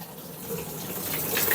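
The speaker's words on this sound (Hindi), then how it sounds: "यहाँ से पानी जो है पाइप से इस टंकी में गिरने लगा है।" Tap water gushes through a pipe into the tub of a washing machine, a continuous splashing flow that grows slightly louder toward the end.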